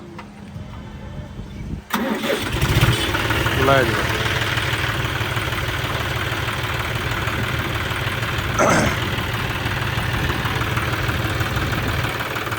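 A tractor engine cranks and catches about two seconds in, then settles into a steady, loud, low rumbling idle; a person speaks briefly over it.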